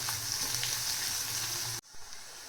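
Spices crackle and sizzle steadily in a pan over medium heat for Marathi zunka, a broad loud frying hiss that cuts off abruptly near the end, leaving only a faint residual sizzle.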